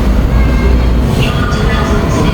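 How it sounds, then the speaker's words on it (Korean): A train pulls into a Korean railway station with a steady low rumble and rolling wheel noise and faint squeals, close and continuous. "열차가 들어옵니다"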